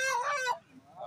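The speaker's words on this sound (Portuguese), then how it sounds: "A caixa tá cheia de galinha." A single short, loud honking squawk from a chicken in a crate full of chickens at a poultry market in Arapiraca, Alagoas, close by, followed by a faint trailing call.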